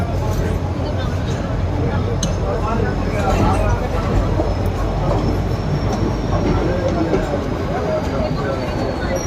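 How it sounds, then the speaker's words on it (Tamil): A loud, continuous rumble of a passenger train at a station platform, with a faint rail squeal on top, steady throughout. "ஸோ நெக்ஸ்ட்டு நம்ம ட்ராவல் பண்ணக்கூடிய ட்ரெயின் இதுதாங்க"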